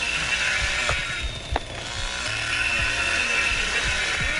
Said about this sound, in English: All I hear is that chainsaw getting red.